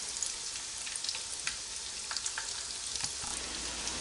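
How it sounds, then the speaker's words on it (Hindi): Minced beef and potato rolls fry in hot oil, giving a steady, even sizzle with small pops and crackles throughout, nearby and alone. "इसको फ्राई होते हुए तकरीबन 6-7 मिनट हुए हैं"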